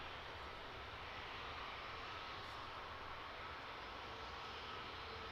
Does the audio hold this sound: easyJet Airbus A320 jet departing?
yes